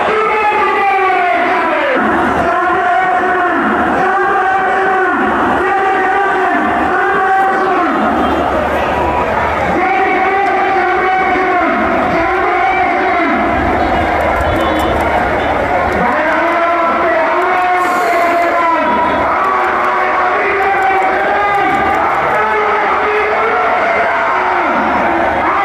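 A large protest crowd at Shahbag in Dhaka chants slogans in loud rhythmic call-and-response waves, with many voices shouting together in repeated bursts over steady crowd noise.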